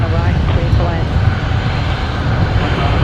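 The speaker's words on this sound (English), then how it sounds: "You've got Qantas 358 coming in from Honiara" A Qantas airliner arrives at Brisbane Airport at night from Honiara, with a loud, steady engine roar. Voices talk over the sound throughout.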